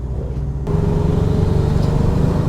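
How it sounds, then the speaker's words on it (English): A 4x4 Peugeot 206 fitted with a Subaru engine drives past or along close by, its engine a loud, steady drone that swells abruptly after a brief quieter moment and holds strong throughout, with no voices. "Makes good noises as well with all the whooshes and bangs, if you like that"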